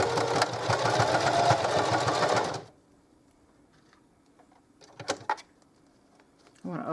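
Sewing machine running a short back stitch on dollar-store drying mats, a fast mechanical whir for a couple of seconds, then near silence with a few faint handling noises.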